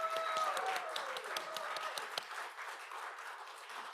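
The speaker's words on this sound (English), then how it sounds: "There was a big applause in here, just so you know." Moderate applause in a church congregation, a scatter of individual claps heard at a modest distance that fades gradually, with a faint tonal sound early on.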